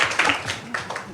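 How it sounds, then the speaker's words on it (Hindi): Schoolchildren in a classroom clap for a classmate, a brief burst of scattered, fairly close clapping with no talk over it. "ताली बजाइए बच्चे के लिए।"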